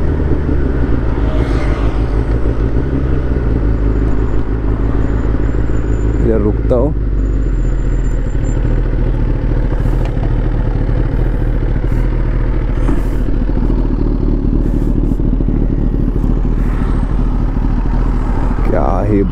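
A Kawasaki ZX10R sportbike rated at 207 bhp, whose exhaust pops and crackles, rumbles loudly and close up. Its deep throaty exhaust swells in a couple of sharp revs while someone talks over it.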